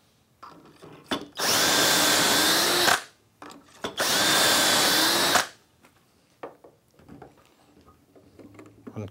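Two loud bursts of a power drill boring dowel holes into wood with a Dowelmax jig, each lasting about two seconds, separated by a short pause, followed by faint handling clatter.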